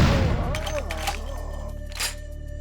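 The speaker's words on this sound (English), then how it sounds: "this game has really loud guns" Loud gunfire in the video game Vampire: The Masquerade – Bloodlines rattles in bursts over a humming music backdrop, with a sharp blast near the end.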